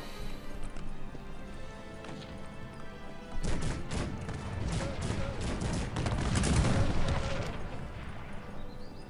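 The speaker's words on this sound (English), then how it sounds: "I guess he didn't know Colourfit has cannons" Cannon fire and gunfire crackle through a Cossacks 3 battle, starting quietly, then swelling into dense overlapping volleys and booms that build to a loud roar before easing a little.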